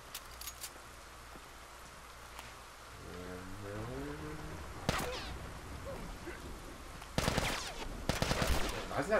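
Gunfire in The Last of Us video game, sharp bursts of shots crackling sporadically and then in a rapid cluster near the end, over a low ambient bed with a brief warbling tone midway.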